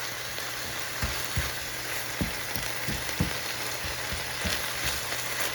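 Ground pork and minced garlic fry in a pan with a steady sizzle, broken by several sharp scrapes and knocks of a utensil as the mixture is stirred.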